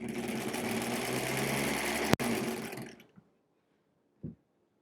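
A 1938 Kenmore model 38 sewing machine running steadily with a dense motor whir and rapid needle clatter, close and loud, then winding down to stop, followed by a single brief knock.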